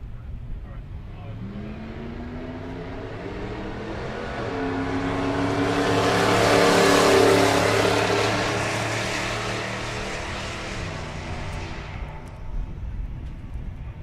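A 2020 Ford Explorer ST and a 2001 Chevrolet S10 roar past at a drag strip, engine tone rising and falling as they swell to a loud peak mid-clip and fade off, with a track announcer talking throughout.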